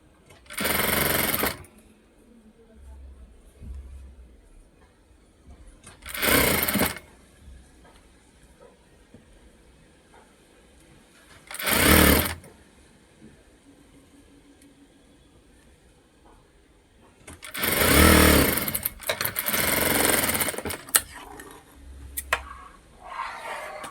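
A sewing machine stitches a blouse in separate loud bursts of rapid whirring, about five runs with quieter gaps of room noise between them.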